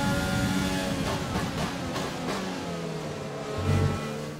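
Renault-engined F1 cars race in F1 2020, a continuous high-pitched engine whine that rises and falls as they accelerate and shift, loud and near, with no talk.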